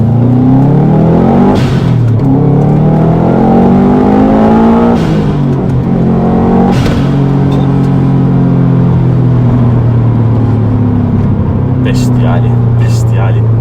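A 2003 Subaru Impreza WRX STi's turbocharged boxer engine pulls smoothly through rising revs with a deep, steady drone and a few gear changes, heard from inside while someone speaks over it.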